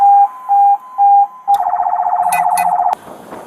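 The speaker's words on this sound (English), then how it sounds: "alternating sirens." Loud police siren: a slow alternating two-tone wail, then a rapid warbling yelp, ending abruptly with some background noise.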